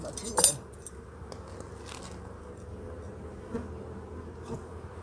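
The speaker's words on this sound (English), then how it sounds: "There's still a lot of bees in here." Faint, steady honeybee buzzing hums throughout inside a hive, with a few soft clicks and knocks near the start and scattered light rustles.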